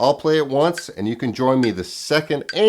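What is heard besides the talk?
None of the usual background noises is heard.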